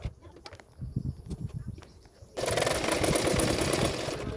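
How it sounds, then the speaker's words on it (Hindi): Sewing machine stitching around the folded edge of a katori blouse: irregular handling and tapping for the first two seconds, then a loud, steady, fast mechanical whir running continuously to the end, close up with no talk. "किनारे किनारे पे मैं चारों ओर सिलाई कर दूंगी।"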